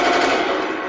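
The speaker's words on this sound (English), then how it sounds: "if you want to shoot the front machine gun, the button up here, you'll see a little light come up there" An RC tank's front machine gun fires a short, dense burst of rapid electronic gunfire, loud and continuous for under a second.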